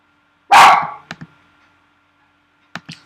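A dog gives one loud close bark followed by a few shorter, softer yips and barks spaced over a few seconds, with quiet between them.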